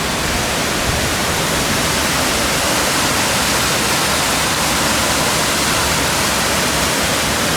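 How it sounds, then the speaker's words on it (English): Rushing water at an old water mill roars continuously and loudly, a steady dense wash of sound with no breaks or voices. "The old water mill."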